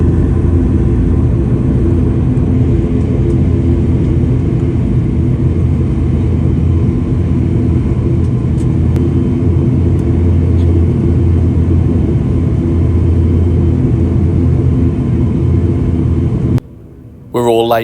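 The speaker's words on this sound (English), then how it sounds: "there goes a 737-800, I think that is, from Jet2" A Jet2 Boeing 737-800 departing a runway at Newcastle gives a loud, steady rumbling engine roar heard from a waiting aircraft, with a speaking voice over it, before cutting off near the end.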